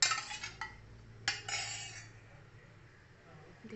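Spoon clinking and scraping in a bowl as paneer is mixed with salt and turmeric, a few faint, close taps and scrapes with quiet pauses between them.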